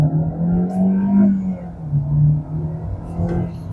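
2025 Hyundai Elantra accelerating in manual mode in second gear, steady engine drone rising and dipping in pitch as it pulls, heard from inside the cabin with no talk.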